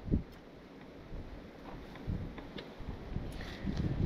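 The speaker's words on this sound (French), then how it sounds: "Là en plus on a du vent." Faint wind gusts buffet the microphone beside a steel-grey Renault Avantime V6, swelling and fading in low rumbling bursts over a quiet background.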